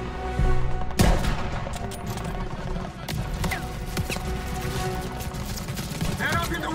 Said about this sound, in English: We're getting shot from above!